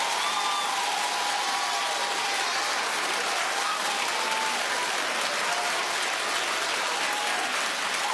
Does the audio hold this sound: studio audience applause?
yes